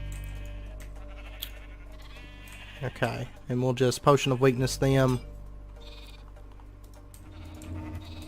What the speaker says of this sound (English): if I spawn a few more sheep here